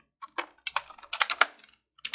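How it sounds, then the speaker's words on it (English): Fingers tap out a quick, irregular run of keystrokes on a computer keyboard, close and crisp, in short bursts with brief pauses and no voices. "my typing is loud"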